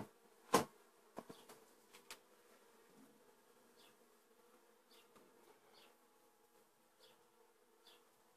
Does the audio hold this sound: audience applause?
no